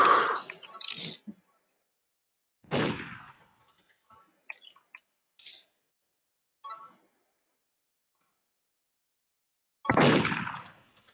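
Gunshots in the Roblox game Murder Mystery 2: a few sharp, crisp bursts spaced apart with near-silence between them and faint small ticks and clicks scattered through.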